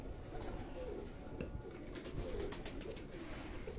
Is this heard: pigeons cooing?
yes